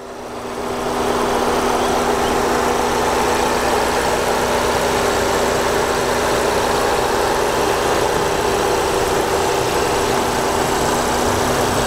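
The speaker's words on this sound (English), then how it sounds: "let's get a quick engine shot" Tuned VW Golf R with an APR tune idling under the hood, a steady, continuous engine drone held close and loud with no talk over it.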